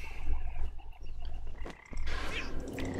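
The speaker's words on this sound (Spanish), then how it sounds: "matando a estas ranas suculentas" Frogs croak loudly and close by in the video game Mulaka, a run of throaty calls broken by a brief pause, with a sharp chirping burst near the end.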